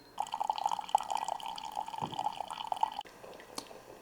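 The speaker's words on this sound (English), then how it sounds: "I'm going to get an 8-ounce cup of coffee." A coffee maker brews an 8-ounce cup, giving a steady close gurgle and trickle of hot water dripping into the cup for several seconds before it tapers off into quieter drips.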